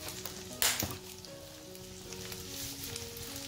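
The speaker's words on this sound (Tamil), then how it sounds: "பூண்டு நல்லா வதங்கணும்" Garlic sautés in a pan with a pinch of salt for a shallot-garlic kara kuzhambu. There is a steady, soft sizzle throughout, broken early by one sharp utensil clatter.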